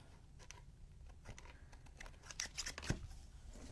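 Sharp scissors snip repeatedly through paper, a series of crisp cuts that grow quicker and louder toward the end, with no talking.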